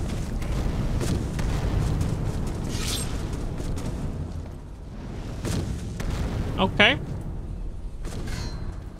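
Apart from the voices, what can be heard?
explosions in video game Skyrim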